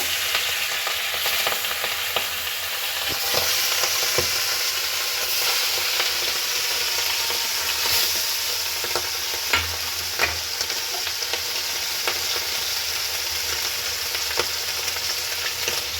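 Pieces of hilsa fish frying in hot oil give a steady, close sizzle with scattered crackles and pops throughout, and no one speaks.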